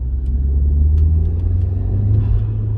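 A 2004 Audi B6 A4 1.8T Quattro with a six-speed manual and a custom cold air intake drives under load in third gear, with a steady, loud low engine drone and rumble throughout and a few faint ticks above it.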